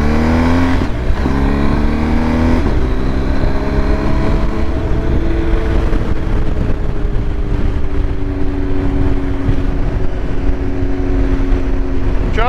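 A BMW R 1250 GS Adventure motorcycle on a demo ride produces a loud, steady engine drone with rising and falling pitch as it shifts and accelerates, mixed with heavy wind rush.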